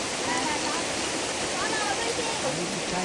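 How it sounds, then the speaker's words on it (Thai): A waterfall roars in a dense, steady rush of falling water, close and loud throughout with no pauses. "ไปเราขึ้นไปดูน้ำตกกันดีกว่า"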